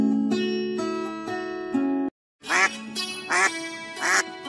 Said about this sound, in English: This duck is out of control.